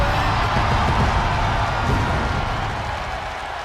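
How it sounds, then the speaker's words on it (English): A large WWE arena crowd roars and cheers for Shaq in a loud, sustained wall of noise that tapers slightly toward the end. "The entire WWE Universe is cheering on Shaq"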